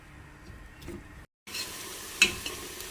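Onions frying in a pan until light brown, a soft steady sizzle with light stirring, one brief dropout and a single small metallic clink near the end, with no talking.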